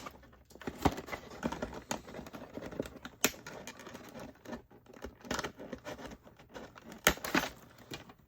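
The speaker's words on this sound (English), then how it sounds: "we're just going to snip these little twist ties to make our lives a little bit easier" Small scissors snip the twist ties holding an Avon-exclusive Barbie doll in its packaging: several sharp, close clicks and cuts in an uneven rhythm, with light plastic and cardboard rustling between them.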